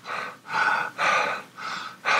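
A human voice imitates panting with about five rhythmic breathy huffs, evenly spaced and close to the microphone.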